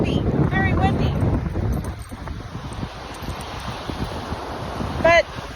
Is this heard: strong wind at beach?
yes